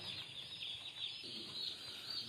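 Several thousand chicks in a poultry brooding cage peep and chirp together in a faint, continuous high twittering chorus that carries steadily with no voices.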